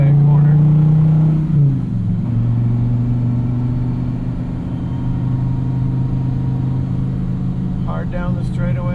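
A 2016 Dodge Viper ACR engine drones loudly and steadily at high speed down a track straightaway at Champion Motor Speedway, with a brief shift dip early and the engine note settling into a sustained roar throughout.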